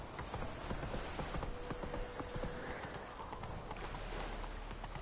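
Horse hooves galloping in The Witcher 3, a quick, even clip-clop rhythm that carries on steadily throughout, quiet and slightly distant, with a faint tonal game sound partway through.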